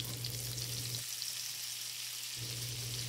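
Chopped bacon frying in brown butter sizzles with a steady crackle that runs on its own from start to finish, and a low hum from the stove or a fan drops out for a moment in the middle.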